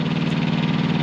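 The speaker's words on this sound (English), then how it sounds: "probably you guys can hear the APU running in the background there" A truck's auxiliary power unit runs in ATS with a steady, even, low mechanical drone that pulses slightly, close by and continuous, with no voices.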